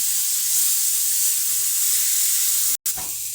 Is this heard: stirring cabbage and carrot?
yes